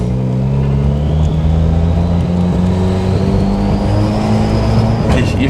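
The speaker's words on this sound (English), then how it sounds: "it's like ever so slightly misfiring under like light load when it's cold" A cold hybrid-turbo Ford Fiesta ST engine idles loud and close under light load, its steady drone broken by faint, uneven stumbles of a slight misfire.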